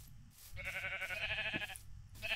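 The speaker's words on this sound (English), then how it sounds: "Got more sheep." Sheep in the video game Minecraft bleat in a few wavering, nasal calls, clear and fairly loud over a faint game background.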